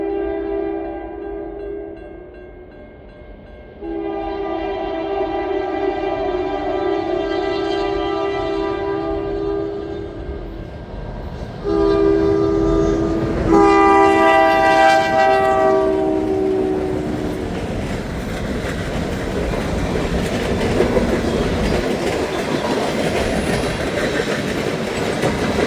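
A CN freight train rumbles past through rural New Brunswick toward a lumber mill with loud, repeated horn blasts, then steady wheel clatter and rolling noise carrying on to the end.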